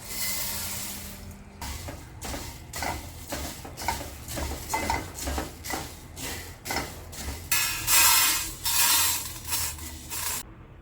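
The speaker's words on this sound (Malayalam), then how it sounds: "അടുപ്പത്ത് ചൂടായ ഒരു പാനിലേക്ക് 2 കപ്പ് പൊരിയിട്ട് ക്രിസ്പി ആവുന്നത് വരെ ഇളക്കി വറുത്തെടുക്കാം" A spoon scrapes and rustles rhythmically through puffed rice roasting until crisp in a hot metal pan, a steady series of stirring strokes with no talking.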